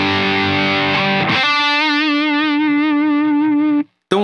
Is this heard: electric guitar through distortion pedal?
yes